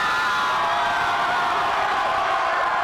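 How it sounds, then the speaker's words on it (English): A packed arena crowd at an NCAA tournament basketball game in Kansas City roars steadily, a dense continuous wash of cheering and shouting with no breaks. "just listen to this crowd"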